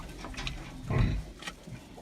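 Piglets from a Vietnamese pot-bellied sow crossed with a Hungarian Mangalica boar grunt and squeal softly, a cluster of low snorts with one louder grunt in the middle, close by.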